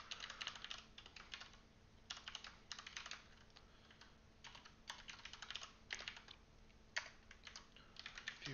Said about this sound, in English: we're going to start typing it up